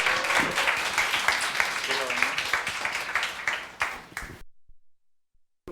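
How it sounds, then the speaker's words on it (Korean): A crowd claps steadily in dense, bright applause for about four seconds at a festival opening ceremony in Busan, with a voice briefly audible, then it cuts off abruptly into silence. "박수 한번 부탁드리겠습니다."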